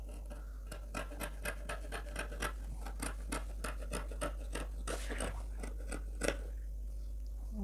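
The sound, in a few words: scissors cutting fabric for a gown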